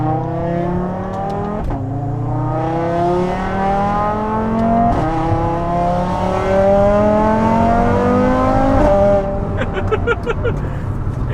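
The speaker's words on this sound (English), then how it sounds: "Accelerating with the new clutch pressures is definitely a lot of fun." A big-turbo Audi RS3 set up for drag racing accelerates hard on new clutch pressures, its engine climbing through rising pitch in a series of loud pulls, each broken by a brief dip at the gear shifts.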